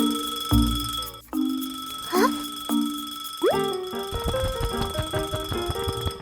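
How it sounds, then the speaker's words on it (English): A cartoonish alarm clock in a Peppa Pig cartoon rings with bright tonal chimes and boings, followed by a jangly musical ringing that continues steadily to the end. "Suddenly, the clock starts ringing loudly."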